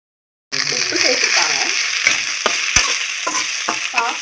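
Brinjal, drumstick and garlic sauté in groundnut and sesame oil, a steady close sizzle with spoon stirs and a few sharp scrapes against the pan, some faint voices in the background.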